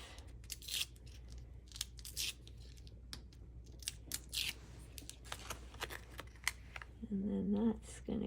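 Adhesive backing peeled off a cardstock strip during card making, a run of close crisp tearing and crackling rips of paper, ending with a short voice near the end.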